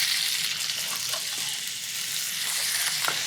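Pancetta frying in olive oil in a pan, a steady close sizzle with fine crackling throughout and no talking.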